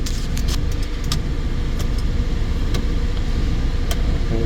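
A 1996 Daihatsu Hijet 4x4 dump truck with automatic transmission, its small engine running close by at a steady, raised rev with the air conditioning on, accompanied by faint clicks and rattles.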